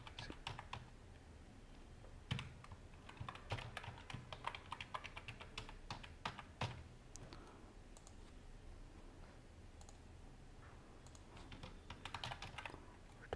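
Fingers tap quick, light bursts of clicks on a computer keyboard while a login password is entered, coming in short irregular runs with brief pauses, close and quiet.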